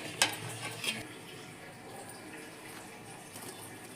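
Maggi chaat ingredients are stirred and mixed in a bowl, two sharp scrapes at the start, then soft, quiet stirring rustles carrying on at a low level.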